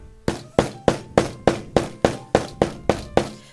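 A hammer strikes a snap fastener on a DIY envelope clutch ten times in a steady, even rhythm, each blow a sharp, close thunk that dies away quickly.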